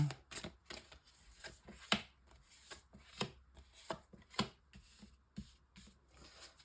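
A deck of tarot cards being cut and handled on a table, a run of soft, crisp taps and slides with irregular pauses, quiet and close, without speech.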